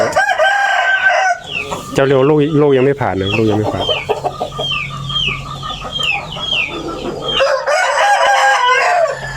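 Roosters crow loudly and repeatedly at a farm chicken coop, with clucking hens mixed in and someone talking over the birds.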